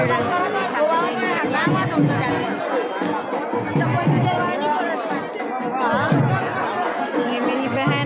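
Dense crowd chatter at the main gate of Dwarkadhish temple in Dwarka, a steady babble of many overlapping voices close by, with occasional laughs and a brief bang, continuous throughout.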